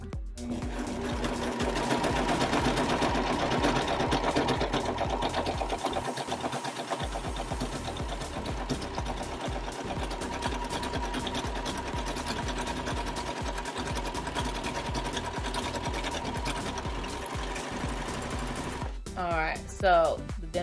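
A Brother 1034D serger runs steadily through stacked layers of denim, a continuous rapid mechanical stitching whir close by that holds for most of the stretch before stopping near the end.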